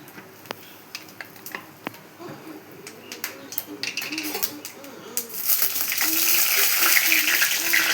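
Cumin, bay leaves, dried chillies and cardamom frying in oil, a soft sizzle with scattered clicks that builds into a louder, steady hiss toward the end, close by and without talk.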